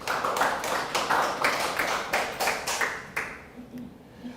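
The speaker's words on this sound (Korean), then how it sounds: "하나님께 영광의 박수로." A church congregation claps together at a Wednesday worship service, a steady run of sharp, evenly spaced claps that fades out near the end.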